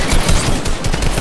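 Loud, dense gunfire during a duo match in a video game, a rapid continuous stream of shots filling the short moment with no pauses or voices.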